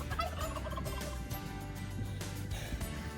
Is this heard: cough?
no